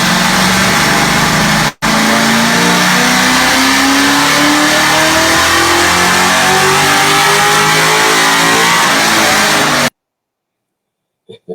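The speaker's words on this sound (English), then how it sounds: "That's Roy's car on the dyno" Car engine on a chassis dyno climbs steadily in pitch through a long, loud rev, builds for about eight seconds with a brief cut near the start, then stops abruptly into near silence.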